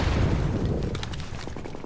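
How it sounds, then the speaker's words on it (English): Sniper gunfire in Tom Clancy's The Division video game, several sharp shots cracking over a dense, noisy battle din, fairly loud and close. "Someone else is sniping these guys off."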